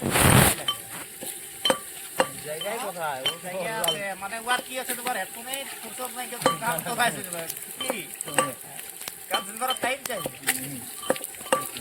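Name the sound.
onions frying in hot oil in a pan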